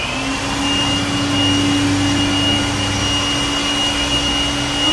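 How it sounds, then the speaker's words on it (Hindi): Steady electric fan running on a Hindi TV serial location shoot, a constant even whirring hum with a faint tonal whine, close and unbroken throughout with no voices. "ओके, ये फैन चला"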